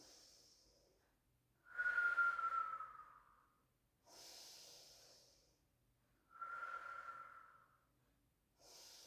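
Slow, audible breaths during a pilates stretch: long airy inhales and exhales alternate in a steady rhythm, close and fairly soft, with no talking.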